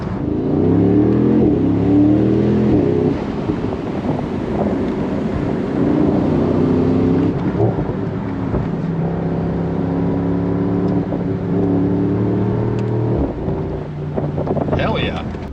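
A 2024 Mercedes SL63 AMG, weighing about 4,300 pounds, drives a windy road with a loud, steady engine drone that rises and falls in pitch through the gears as it accelerates. Heavy wind rush runs beneath the engine throughout.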